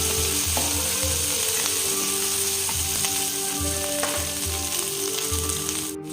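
Ginger-garlic paste frying in hot oil for homemade mixed chow mein, a loud, dense, steady sizzle with faint spatula clicks and scrapes underneath, close by.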